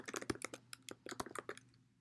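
Typing on a computer keyboard, a quick run of crisp, close key clicks in an uneven rhythm lasting about two seconds, fairly quiet with no talking.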